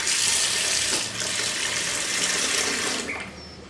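Tap water pours steadily into a container, a loud continuous rushing splash that shifts slightly in tone as it fills and eases off near the end, with no speech.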